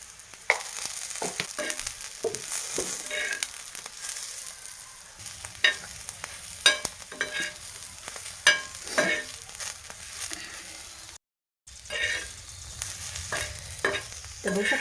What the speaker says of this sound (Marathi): आपल्या मिरच्या छान परतल्या आहेत